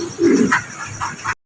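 A Mondain pigeon, a fancy breed, coos in short, low, throaty bursts close by, with a softer repeat near the end and an abrupt cutoff.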